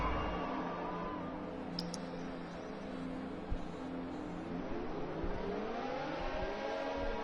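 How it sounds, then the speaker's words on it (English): Race car engines in a racing video game idle and rev up in a steady droning whir before the start at Bahrain, a continuous engine tone with rising pitch sweeps, fairly quiet and without talk. "And the revs build up."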